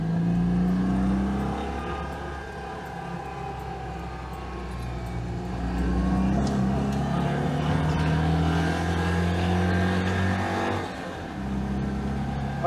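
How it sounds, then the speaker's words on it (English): A Citroen 2CV's small air-cooled engine running steadily after a tune-up while driving, an even drone with a mild rise around the middle and road noise, no talk. "the engine just seems so much happier, so much smoother"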